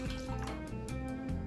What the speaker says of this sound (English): And a splash for good luck.